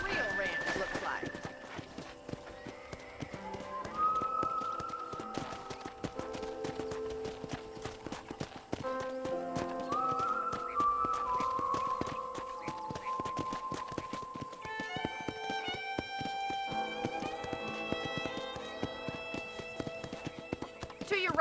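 Rhythmic clip-clop of horse hooves at a steady pace in the video game Red Dead Redemption, accompanied by melodic background music and occasional soft tones.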